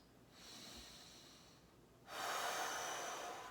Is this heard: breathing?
yes